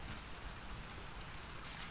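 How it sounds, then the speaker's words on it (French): Steady rain falls in a video game, a soft, even wash of broadband hiss that runs unbroken from start to finish at low level, with no voices over it. "Il pleut."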